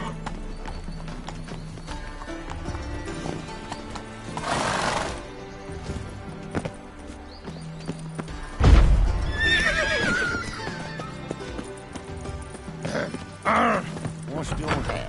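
Roach the horse from The Witcher 3 gallops with steady clip-clop hoofbeats, breaking into a loud whinny partway through, set against game music and voices talking.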